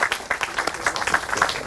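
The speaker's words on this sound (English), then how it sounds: "Can we just give a rousing hand of applause and warm 9th District welcome to our Mayor LeVar" Audience applause welcoming Mayor LeVar Stoney at a community center grand opening, a dense burst of clapping from a crowd, fairly loud and steady for a couple of seconds with no talk over it.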